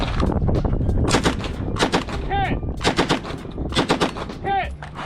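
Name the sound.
MP40 submachine gun firing in competition shooting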